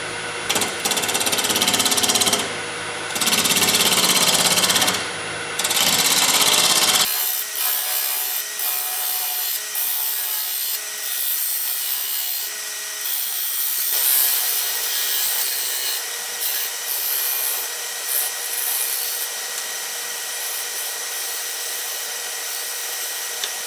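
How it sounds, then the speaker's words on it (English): A round cutter turning a wooden bowl on a lathe gives a steady, continuous scraping whir with no voices. The first seven seconds are louder and rougher, then it settles into an even, softer hiss of cutting. "I'm using my round cutter."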